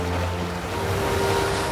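Ocean waves wash steadily onto a tropical Madagascar coast, a continuous broad surf roar heard close and fairly loud without any voices.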